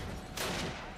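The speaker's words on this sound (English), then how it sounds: "I'll set the explosives off" A game explosive charge detonates during a dam mission, a sudden broad blast about a third of the way in that holds loud for a moment and then rumbles down, with no talk over it.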